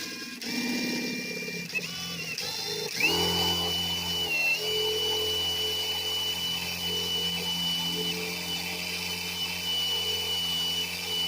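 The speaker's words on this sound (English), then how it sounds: "So we got our hole drilled" A power drill bores a hole during a diff lock repair on a John Deere 1023e/1025R compact tractor, with a loud, steady motor whine close by that shifts pitch early and then holds continuously.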